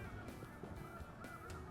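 Dense chorus of snow geese honking, many overlapping calls from a large flock at a distance, in South Dakota.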